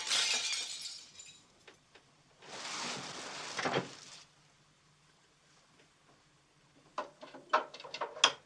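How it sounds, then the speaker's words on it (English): Glass smashes in loud bursts, with a long crash of breaking panes followed later by a rapid cluster of sharp shattering hits. "somewhere in the night a window smashed"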